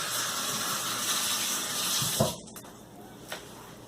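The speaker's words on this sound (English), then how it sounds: "Rinse my hands again." Running tap water pours steadily over hands being rinsed at a kitchen sink during muffin baking, a broadband hiss that cuts off abruptly partway through, leaving a quieter room with a faint clink afterward.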